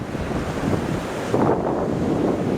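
Ocean surf at Virginia Beach rolls and washes continuously while gusty wind buffets the microphone, loud and close, with no talking.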